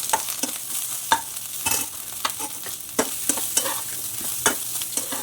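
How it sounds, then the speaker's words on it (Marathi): Leftover idli pieces are stirred with masala in a pan, with repeated scraping strokes of a spoon over a soft, steady sizzle. "अशा प्रकारे पूर्ण हलवून द्यायचं म्हणजे इडल्या पूर्ण सगळा मसाला त्याला लागतो"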